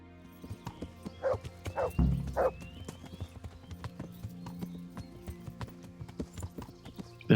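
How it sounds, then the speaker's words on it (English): Steady clip-clop of horse hooves trotting at an even rhythm in the video game Kingdom Come: Deliverance, with a few louder thumps and a brief snort early on. "The horse is riding on its own."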